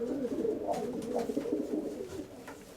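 Caged pigeons, a mating pair, give repeated throaty coos in a steady rolling rhythm, close and moderately loud, with no talking over them.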